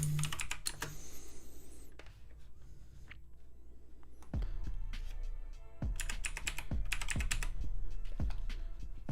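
Fingers type on a computer keyboard in rapid clicking bursts, close and clear, with a short lull before heavier, thumping keystrokes resume.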